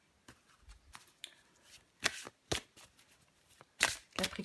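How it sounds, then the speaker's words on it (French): Tarot cards are shuffled and drawn, giving faint, soft riffles and a few sharper card snaps and slaps, sparse and quiet with no voices. "Je vais encore tirer une carte pour vous"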